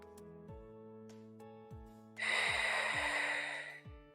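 A single loud breath during a Pilates exercise with a ball rushes in close for about a second and a half, over a soft sustained musical backdrop with low rhythmic pulses.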